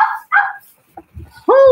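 Dogs barking in short, separate yelps and woofs, a few quick barks followed by a louder whining bark at the end, fairly close and without speech.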